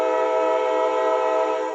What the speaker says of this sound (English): Fucking train messing up my video